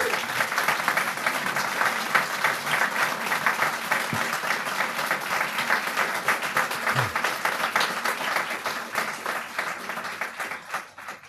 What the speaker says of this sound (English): I think he deserves a round of applause also.